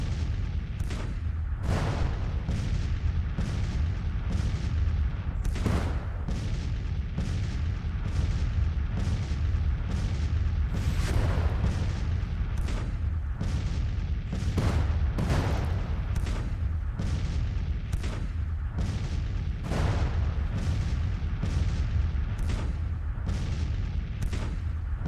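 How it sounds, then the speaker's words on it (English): Artillery booms again and again in Grand Tactician: The Civil War, a steady bombardment with heavy, irregularly spaced blasts, some near and sharp, others duller, over a continuous low rumble. "That bombardment's going on."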